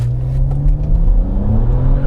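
BMW E92 335i on stock turbo with JB4 tune and E85, launched hard in second gear with slight wheel spin: a loud, steady engine drone with a rising harmonic, heard close from inside the car for about two seconds.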